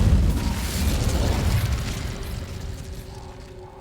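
A fire spell bursts in Hogwarts Legacy with a loud, booming whoosh that rolls on and slowly fades over several seconds, with no talk.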